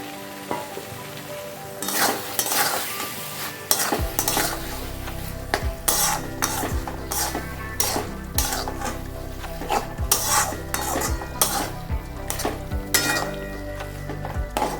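Prawns fry in hot oil for a Bengali prawn malai curry, sizzling steadily and close while a utensil scrapes and stirs the pan in repeated strokes, with no talk.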